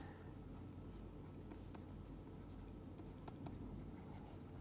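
A lecturer writing on a board during a lecture on entropy and probability, a continuous scratchy stroking with short taps, close and fairly quiet, with no talking.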